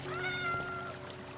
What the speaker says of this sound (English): The cat is greedy, man.